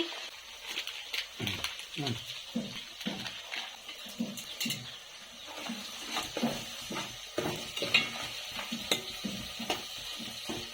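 Tempering for a village-style chickpea dish sizzles in a pan and is stirred, with scraping and crackling bursts running beneath continuous speech.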